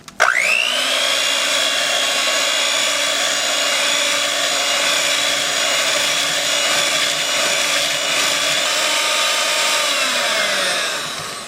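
An electric blender or mixer whirs steadily for about eleven seconds, loud and close, spinning up at the start and winding down at the end as chocolate cake batter with melted butter and eggs is mixed.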